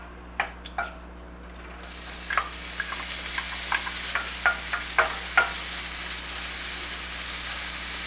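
Chopped andouille sausage sizzling in a heated pot, a soft steady frying hiss with a string of small clicks and stirring scrapes close by.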